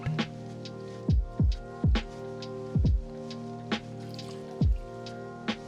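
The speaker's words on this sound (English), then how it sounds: "I'm gonna start with 2 ounces of my rye whiskey." Rye whiskey poured from a bottle into a glass for an Old Fashioned, coming out in a series of short, close liquid glugs and splashes with brief pauses between them, no voices.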